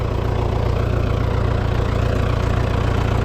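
An MTZ 892.2 tractor engine drones loud and close while pulling homemade harrows across a damp field, a continuous low rhythmic diesel throb that stays constant throughout, with no voices.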